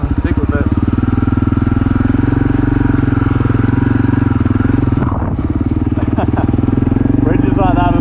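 A motorcycle idles loud and close, its engine holding a steady rumble with clattering that picks up toward the end as the bike rolls across a log bridge on a solo adventure ride to Blencoe Falls.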